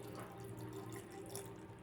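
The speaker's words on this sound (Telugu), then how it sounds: "వాటర్ కొంచెం తీసుకోండి." Water poured into a mixer jar for grinding, a faint, steady trickling splash with no voices, heard briefly.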